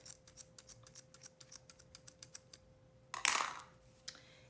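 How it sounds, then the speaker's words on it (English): Scissors snip through a glued Dollar Tree sign held together with hot glue, a rapid run of crisp, close cuts in quick rhythm, then a louder crinkling rustle of the material and one last snip. "So I'm just gonna cut it with my scissors."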